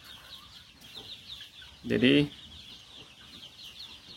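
Free-range village laying hens cluck in a backyard coop, with one loud, close squawk standing out above a soft, continuous background of clucking; someone speaks briefly.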